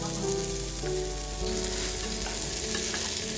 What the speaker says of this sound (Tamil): நல்லா வதங்கி வந்துச்சு பாருங்கள்